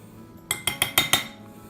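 Spoon scooping cut avocado pieces into a bowl for chickpea pasta salad: five quick, sharp, evenly spaced clinks against the bowl, close and clear, in otherwise quiet surroundings.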